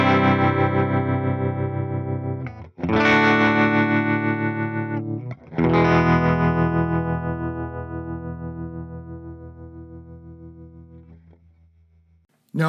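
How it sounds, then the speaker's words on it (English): Fender Tone Master Pro modelling a Deluxe Reverb amp with its tube bias tremolo at default settings, volume 4, treble 6, bass 4.5: three strummed electric guitar chords, each ringing out and pulsing gently as it decays. "This is the tube bias tremolo at its default settings."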